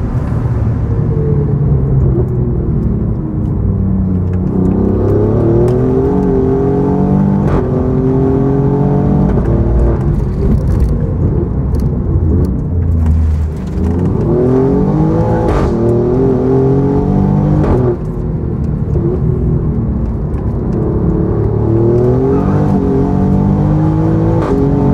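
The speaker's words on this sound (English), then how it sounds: "once I turn it to race, you immediately hear the exhaust valves open up" Alfa Romeo Giulia Quadrifoglio sports car driven in race mode with open exhaust valves on twisty roads, loud close engine rising and falling through repeated quick upshifts and rev climbs, heard from inside the cabin.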